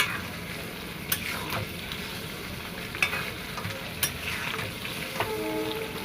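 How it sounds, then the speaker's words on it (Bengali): Ginger, garlic and dried chilli paste frying for mutton curry, giving a low steady sizzle while a spoon stirs with occasional sharp scrapes and clinks against the pan. "এখন আমি এই আদা, শুকনো লঙ্কা ও রসুনের পেস্টটা দিয়ে ভালো করে কষিয়ে নেব।"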